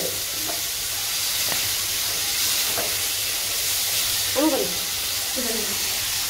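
Chana frying in hot oil gives a steady, close sizzling hiss that fills the whole stretch, with brief voices rising over it near the end.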